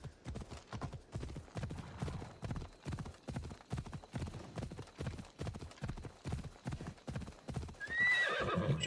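A horse in the video game Assassin's Creed Odyssey gallops with a steady, rhythmic clip-clop of hooves throughout, close and clear, ending in a sharp neigh.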